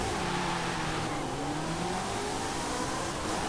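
A Ferrari GT1 race car's engine in the racing game Forza Horizon 5, a steady, close, loud drone with rising and falling pitch as it revs and accelerates, with a hint of tire noise.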